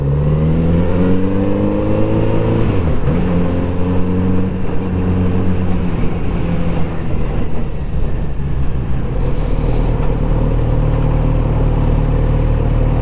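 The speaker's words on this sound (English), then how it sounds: "the tone from the exhaust is one which will stand out while not being too offensive or obnoxious" Kawasaki Z900RS motorcycle engine and exhaust, loud and close, with a steady droning note that rises and falls through revs as the bike moves, then settles into a deeper, rumbling tone toward the end.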